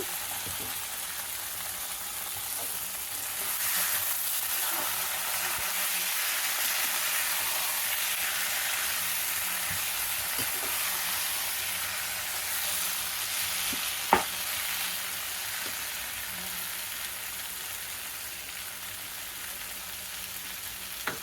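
Taro leaf dish being stirred while it fries in a pan, a steady sizzling hiss with occasional scrapes and one sharp knock near the end.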